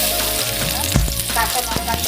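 Crushed garlic hitting hot oil in a pan, a dense crackling sizzle with a few sharp clicks and pops of spatula contact, loud and close.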